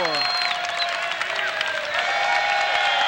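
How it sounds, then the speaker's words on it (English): Crowd at a 1989 Valdosta State vs. Troy State college basketball game applauding the referee, a loud, steady wash of clapping and cheering with squeaky high tones running through it. "As you can hear, the crowd is applauding the referee."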